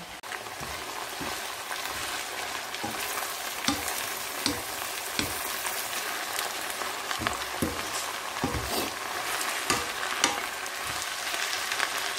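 Vegetables sauté in a hot pan with a steady close sizzle, punctuated by occasional scraping stirs and soft clinks at irregular intervals, no voices.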